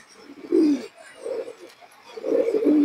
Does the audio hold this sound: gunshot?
no